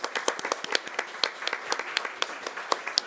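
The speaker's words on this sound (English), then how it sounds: "Give him a round of applause." Sparse clapping from a small group at a Kent council meeting, honoring the October employee of the month; individual claps are distinct and fairly close, keeping an irregular patter over about three seconds.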